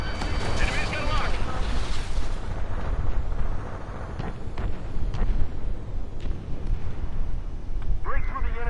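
Missile explosions and heavy combat blasts in the Ace Combat 7 flight game, a dense rumbling barrage that keeps up throughout, with radio voices talking over the roar.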